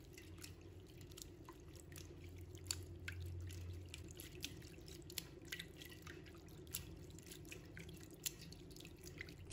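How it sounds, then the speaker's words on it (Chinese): Bean sprouts being rinsed in a dish of clean water give quiet, scattered drips and small splashes. They are close but faint, over a low steady hum. "再准备一把的豆芽，把它放入盘中，倒入清水， 把它清洗干净"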